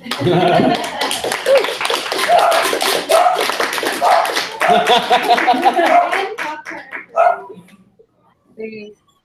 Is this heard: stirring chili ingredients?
no